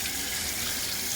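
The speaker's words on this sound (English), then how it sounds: "I'm going to start off by just basically rinsing" Shower water runs hard and steady while parts of a Bissell 6585 cleaner are rinsed under it, a dense continuous hiss close by.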